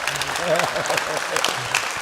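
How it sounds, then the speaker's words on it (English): Audience applause for Danny Trejo, a dense steady wash of clapping with a speaking voice running beneath it throughout. "if I could just ask everybody to give a big round of applause"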